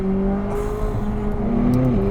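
A McLaren 600LT's turbocharged engine drones with a rich, steady exhaust note, pitch holding level then dipping slightly near the end, loud and continuous with no talking.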